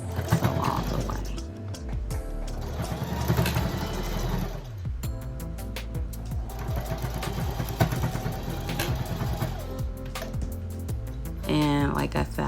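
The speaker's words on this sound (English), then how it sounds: "And start sewing. Remember to back stitch and then sew" A sewing machine runs steadily as it stitches a seam on a fabric face mask, its rapid mechanical whir continuing through the clip beneath a busy layer of background sound and voice.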